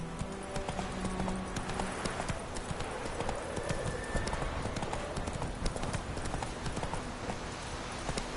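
Roach, the horse in the video game The Witcher 3, gallops with a rapid, steady clip-clop of hooves over a dense, loud game soundscape, with a brief whinny-like sound near the start.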